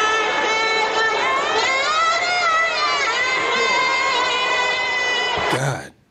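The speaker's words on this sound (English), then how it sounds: "they're booing hard." A baseball stadium crowd boos loudly and continuously at a national anthem singer, a sustained wall of jeering voices with wavering tones, ending abruptly in a brief sharp noise.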